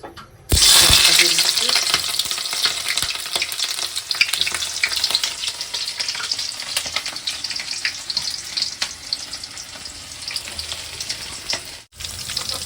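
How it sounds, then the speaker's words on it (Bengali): Cinnamon, cardamom, bay leaf and onion frying in hot oil on a stove, a loud sudden sizzle that settles into continuous crackling frying with stirring, no talk over it. "তো এই যে এখানে তেলের ভিতরে দিয়ে দিয়েছি দারচিনি, এলাচ, তেজপাতা"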